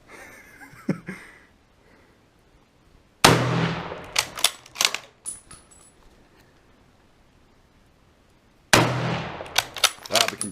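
Two sharp, loud rifle shots from a 1918 Rock Island M1903 in .30-06, several seconds apart, each a sudden blast followed by echoing rumble and clattering bolt and brass sounds, with quieter handling noises before the first.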